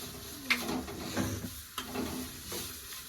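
Maggi noodles with chunky carrot pieces stirred in a pan, a close run of scraping stirs and soft sizzle with a few sharper knocks of the spoon against the pan.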